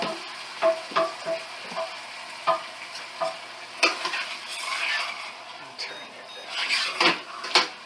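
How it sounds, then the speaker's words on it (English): Tomato sauce being stirred into sweated-down onions in a pan for chicken parmesan, with a string of distinct scraping spoon strokes over a soft sizzle, up close and moderately loud. "we sweated our onions down, so go ahead and add your tomato sauce"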